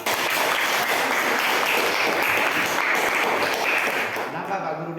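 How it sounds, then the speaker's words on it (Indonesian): Applause from a classroom group of students, a dense, steady clatter of clapping hands that holds fairly evenly before tapering at the end, with a voice faintly audible underneath. "Tepuk tangan untuk kelompok 2."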